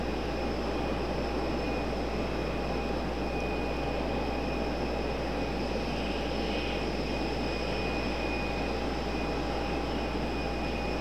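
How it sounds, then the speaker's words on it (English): A medevac aircraft passing overhead at night near Raleigh-Durham International, a steady continuous engine drone with a constant hum and tonal whine, holding level for the whole stretch with no voices. "Looks like a medevac."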